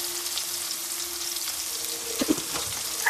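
Mushrooms frying in a pan with rock salt, turmeric and chilli powder, a continuous close sizzle with a few sharp spatula taps and pops near the end.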